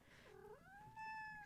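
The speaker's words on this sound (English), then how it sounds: "Sorry, that was my cat. She decided to say hi." A pet cat meowing close by, a single rising drawn-out meow that ends on a sustained clear tone, heard alone in a quiet room.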